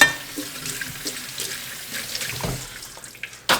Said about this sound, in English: We're gonna rinse all of our greens in clean water.